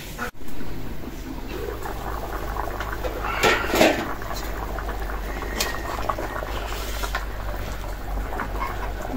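Chickpea dal with fish boiling in a covered pot, a steady close bubbling and simmer with a brief clatter near the start and a few faint knocks partway through.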